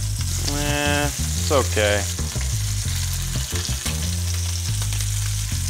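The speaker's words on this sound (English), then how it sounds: "get these scallops on. Cook on one side for about 3 minutes." Scallops searing in a hot pan give off a loud, steady close-up sizzle that carries on throughout, with a short remark spoken over it and faint tonal sounds in the background.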